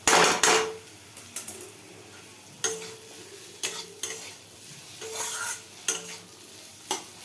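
Garlic frying in a pan while a spatula stirs it, giving sharp scraping strokes every second or so over a low, steady sizzle, close and fairly loud.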